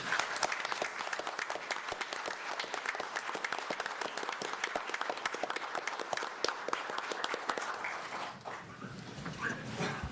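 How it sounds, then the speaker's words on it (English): An audience at a city commission meeting gives a round of applause, with sharp, dense clapping that holds steady for most of the stretch, then thins out and tapers near the end. "If I can get just one more round of applause, please"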